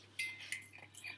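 Fork or whisk clinking against a bowl while mixing a spiced lamb marinade with cumin, a few faint, quick metallic taps close by, no talk.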